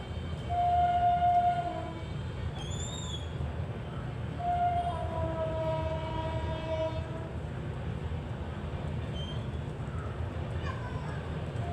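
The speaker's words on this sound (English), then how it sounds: "when train is passing by" A train rumbles past nearby with a steady low roar, sounding two long horn blasts early on; faint voices can be heard in the background.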